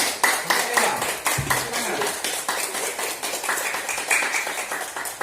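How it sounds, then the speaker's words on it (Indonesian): Students in a classroom clap their hands, a dense burst of sharp claps that keeps going throughout, with a few voices mixed in. "Tepuk tangan."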